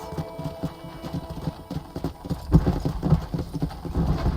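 Horse hooves clip-clopping in the Red Dead Redemption video game, a steady rhythmic trot of close, thudding hoofbeats that grows slightly louder and heavier midway, with faint background ambience.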